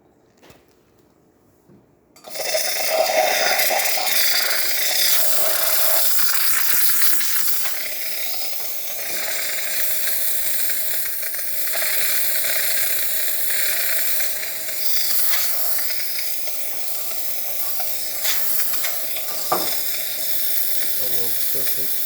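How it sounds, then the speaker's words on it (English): Gaggia Classic espresso machine steam wand hissing steadily for about twenty seconds after a quiet start, loud and close with a broad continuous roar. "test the steamer."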